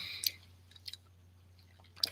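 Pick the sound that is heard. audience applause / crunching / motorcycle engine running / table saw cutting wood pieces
crunching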